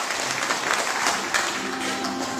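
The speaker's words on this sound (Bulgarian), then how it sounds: "Овации за Боби." An audience gives a steady, close burst of applause for a young performer at a sports show put on by an MMA club in Polski Trambesh, Bulgaria, with dense continuous clapping lasting throughout.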